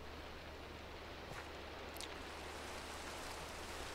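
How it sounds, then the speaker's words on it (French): Heavy rain in a video game hisses as a dense, steady wash of noise from start to finish, with no voices and no pauses. "Il pleut toujours des cordes."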